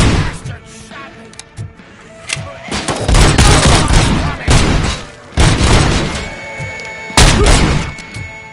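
Gunshots in RoboCop: Rogue City erupt in loud, close bursts of rapid automatic fire, broken by short pauses and heavy impact thuds, with a few scattered single shots early on.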